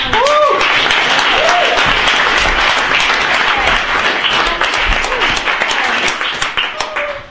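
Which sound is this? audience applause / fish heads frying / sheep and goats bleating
audience applause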